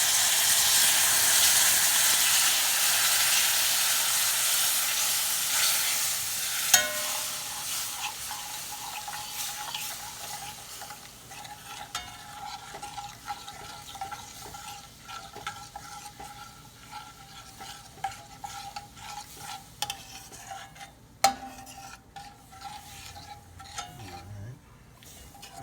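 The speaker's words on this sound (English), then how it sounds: "We can go ahead and toss our coconut milk in." Coconut milk goes into a hot pan of shrimp curry, and a loud hissing sizzle fades over several seconds into a softer bubbling simmer, with occasional clinks and scrapes of a spoon stirring close by.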